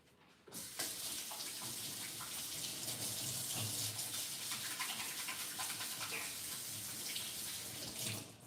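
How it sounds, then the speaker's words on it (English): Water runs from a tap during handwashing in a home kitchen, a steady close hiss of splashing flow that starts abruptly and continues for about eight seconds without talk. "I'm gonna wash my hands."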